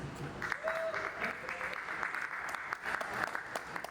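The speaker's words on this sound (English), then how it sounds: "Give yourself a round of applause" Moderate applause from a tech meetup crowd in a New York event space, a fairly quiet wash of claps with faint murmuring voices mixed in.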